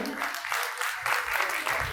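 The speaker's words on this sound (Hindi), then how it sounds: "कृपया एक बार इनके सबके लिए जोरदार तालियों से स्वागत करें" Audience applause greets guests taking the stage at an annual meeting of a car dealers' association, heard as a brief, fairly faint patter of clapping with a voice mixed in.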